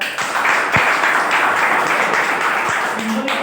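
Sustained applause from an audience at a business presentation, many hands clapping steadily for several seconds with a dense, crackling texture.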